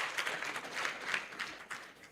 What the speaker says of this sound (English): Please, a round of applause for her as she comes to the front.